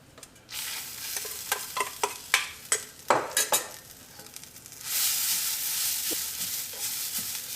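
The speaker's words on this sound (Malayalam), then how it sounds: "ഇതെല്ലാം കൂടിയിട്ട് നമുക്ക് എണ്ണയില്ലാണ്ട് ഒന്ന് വറുത്തെടുക്കുക" Spices and grated coconut dry-roasted without oil in a pan for Kerala egg roast, a run of sharp spoon scrapes and stirring clatter, then a steady loud sizzling hiss, no voices.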